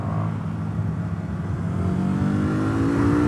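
A motorcycle engine, likely a Yamaha MT-03 or KTM Duke 390, is held wide open at full throttle, a steady loud rising drone with whirring wind noise and no pauses.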